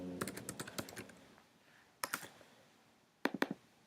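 A computer keyboard is typed on in quick bursts: a run of crisp key clicks, a pause, a short burst, another pause, then a few final taps, all close and clear with no voices.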